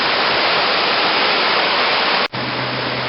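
Floodwater in flooded Ridley Creek roars as a steady, loud, broadband rush, near and continuous, with a brief dropout just past two seconds before the torrent resumes.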